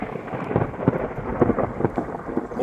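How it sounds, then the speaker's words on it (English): Rain begins outside a workshop with low rolling thunder, heard as uneven, close rumbling bursts and patter with no talking. "Oh, it's starting to rain."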